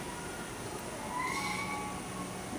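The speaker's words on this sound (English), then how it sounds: "My cat's crying to get inside because it wants to be fed." A cat outside meows to be let in, a thin drawn-out cry rising over steady background hiss, heard once in the middle of the short stretch.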